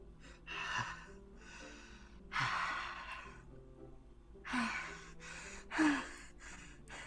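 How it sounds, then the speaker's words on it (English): Sharp inhales through the teeth and heavy breathing from a horror visual novel game, coming in four separate breathy bursts spread over several seconds, moderately loud against a faint low background hum. "Sounds like breathing. A sharp inhale, like someone sucking air through their teeth."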